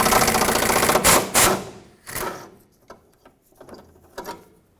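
A ratchet clicks in quick bursts while loosening a 10mm bolt on the rear bumper of a 2009-2014 Ford F-150, with a few sharper metallic ticks and pauses between the strokes.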